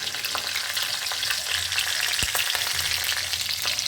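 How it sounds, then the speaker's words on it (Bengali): Green chillies and black cumin (kalo jeere) crackle in hot oil for a tempering, giving a loud, constant sizzle close to the pan with one sharp pop partway through. "কাঁচা লঙ্কা ফোড়ন দেবো"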